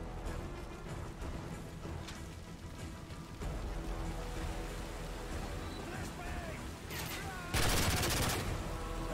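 Combat in Modern Warfare 3 brings a flashbang grenade blast with a sudden loud burst near the end, following steady gunfire and crackling battle noise, with voices mixed in.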